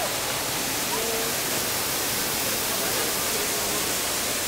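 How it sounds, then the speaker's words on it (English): Water pouring and splashing in the Trevi Fountain in Rome, a steady broadband rush that fills the whole clip at close range without a break. "This is a Trevi Fountain."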